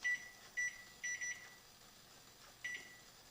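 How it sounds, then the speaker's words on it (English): A kitchen timer being set: a sequence of short, high electronic beeps, two single beeps, a quick double beep, then another after a pause, close by over a faint hum. "I'm going to set a timer for 30 minutes"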